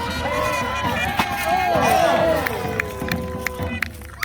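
A crowd cheers and calls out at a jousting tournament as the riders prepare to charge. Voices rise together, and an announcer's voice carries over the general hubbub.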